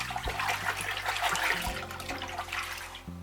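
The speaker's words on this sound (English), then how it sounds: "Pour in your water." Water pours steadily into a bowl of sushi rice, a close splashing and trickling stream that tapers off at the end.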